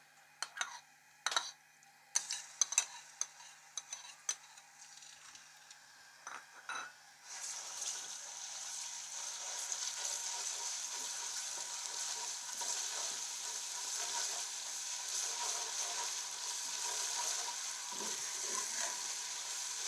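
A few clinks and taps of a utensil on a pan, then garlic-ginger paste hits hot ghee and sizzles steadily and softly for the rest.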